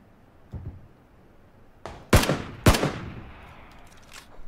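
Gunfire in the video game PUBG: a faint pop and a soft thud, then two loud, sharp shots in quick succession, each trailing off into a brief echo.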